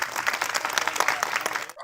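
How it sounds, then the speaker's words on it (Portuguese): A group claps for hospital health workers in a dense, close burst of applause that lasts nearly two seconds and then cuts off abruptly. "palmas para ele e demais colegas"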